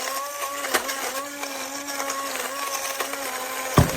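A NexaEase portable blender crushes ice cubes with a steady, whining motor drone, broken by scattered rattles and a sharp clunk near the end.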